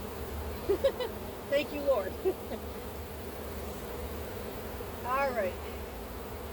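Agitated honeybees boil out of an opened hive during a summer inspection, their steady buzzing drone running throughout while a person speaks briefly nearby.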